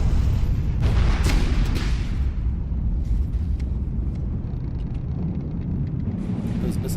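Missiles exploding in the naval combat game From the Depths, a continuous loud rumbling roar with several sharp bursts early on, dense low-end booming throughout and no voices.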